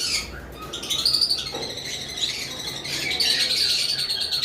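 Yellow-sided conure parrots calling in a bird sale aviary, shrill repeated chirps and squawks close by, steady and fairly loud without speech.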